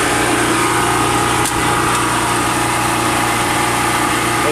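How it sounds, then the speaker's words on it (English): Steady whirring drone of 120-volt electric engine cooling fans running continuously on a 1987 Itasca Phasar motorhome, with an engine-like hum and no talking. "It has electric fans to cool it."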